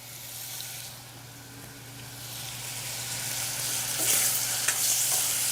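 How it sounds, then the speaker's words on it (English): Ground pork sizzles and browns in a pan as the base of a ragu, a steady frying hiss with occasional stirring scrapes that grows slightly louder, with no talking. "Let the pork juices mingle. And you could see here how it's just starting to brown up."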